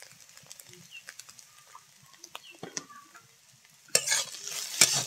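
A spatula stirs potato and egg in a frying pan, sounding as soft, scattered scrapes and taps over a quiet background, with a louder burst of sizzling and clatter near the end.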